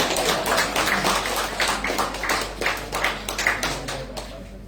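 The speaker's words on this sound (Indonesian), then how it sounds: "Ya, tepuk tangan." Members of a church congregation at an Easter service clap their hands together, producing a loose, rhythmic run of moderately loud claps that carries on steadily across the room.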